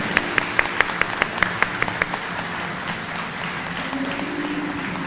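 Audience applause at a high school awards ceremony, beginning with a few distinct sharp claps that merge into a steady, moderately loud wash of clapping from a seated crowd, with faint background voices.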